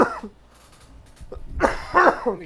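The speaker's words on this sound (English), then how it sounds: "Coughing all over me" A few harsh coughs from a person nearby, with a short pause between the first and the later bursts.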